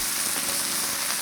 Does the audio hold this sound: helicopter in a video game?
no